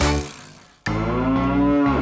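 A cow moos in a long, loud, sustained low call after a brief pause, the sound of cattle featured in a children's farm animal song.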